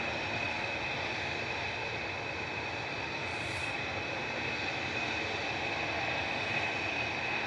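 A Brussels Airlines jet taxiing or departing at Manchester Airport gives a steady, even engine roar that holds at one level throughout, with no talk over it.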